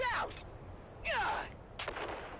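Grenade blasts and gunfire in the Dune Awakening video game: three sharp bursts with rushing, crackling decay, spaced about a second apart over a low rumble, with faint voices in the background.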